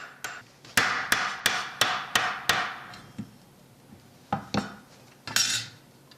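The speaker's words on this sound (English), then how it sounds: "I use another hammer to create more movement, more texture." Metallic hammer strikes on sheet metal ring out close by, first a quick regular series of about eight blows, then a few scattered hits after a pause.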